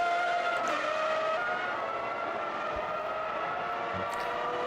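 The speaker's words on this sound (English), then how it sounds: "there's a little bit of a collision between Dustin and Brandes there" Classic Grand Prix race cars in a racing game, engines droning steadily with tire squeal and a couple of short thuds from contact between cars, moderately loud and with no speech.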